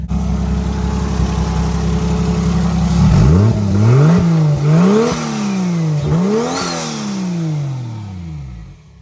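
A loud 2JZ engine swapped into a Jeep idles, then revs repeatedly in rising and falling bursts, roaring close by with a raspy exhaust note through its muffler, no talking.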